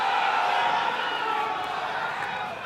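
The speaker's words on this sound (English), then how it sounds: "Well, the crowd not happy." Dense hockey crowd at a EuroHockey League knockout match voicing displeasure in a sustained, fairly loud roar of murmurs and jeers, steady throughout and tapering slightly at the end.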